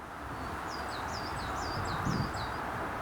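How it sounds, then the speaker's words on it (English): Steady broadband wind rush fills the scene, with high chirping birds calling repeatedly above it and a brief rustle near the end. "It's a bit windy today"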